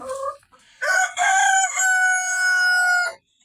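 A Rhode Island Red hen in its nest gives a loud, close call, a drawn-out crowing-like squawk after a few short clucks.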